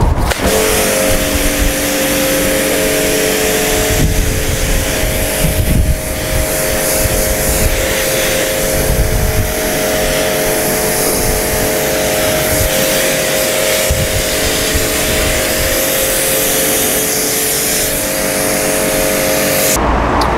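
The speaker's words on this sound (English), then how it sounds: "power wash from the top down, and again angle that lance in a downward direction" A pressure washer lance sprays a BMW car from the top down, giving a loud, continuous hiss over a steady motor hum for about twenty seconds.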